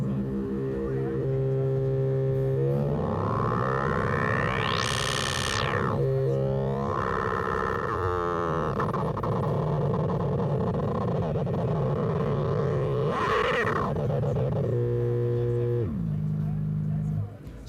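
Make Noise Dual Prismatic Oscillator analog VCOs cross frequency modulating each other, steady tones breaking into dense noisy, sweeping and rising-falling pitched textures before settling back to plain tones, heard alone.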